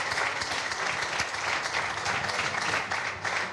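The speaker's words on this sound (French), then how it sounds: "Donc, on applaudit pour vous, merci." An audience at a public announcement event for the 8th BISO edition breaks into sustained applause, a dense, steady wash of clapping hands that stays loud and unbroken throughout.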